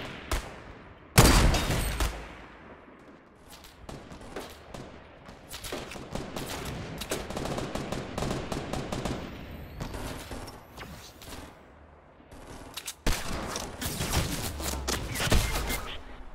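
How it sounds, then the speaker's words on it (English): Fortnite gunfire in repeated loud bursts of rapid shots, with sharp volleys near the start and again toward the end and scattered shots between, no talk. "Now somebody's shooting at me."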